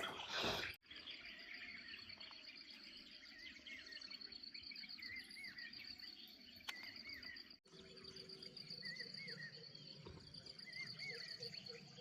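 Birds sing and chirp at dawn on a hill at a campsite over a steady drone of insects. Repeated short calls come from middle distance, fairly faint, with a couple of brief knocks nearby.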